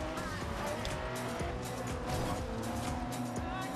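Drifting car in the Forza Horizon 2 racing game, engine roaring steadily with loud tire squeal and skidding throughout, close and continuous with no talk.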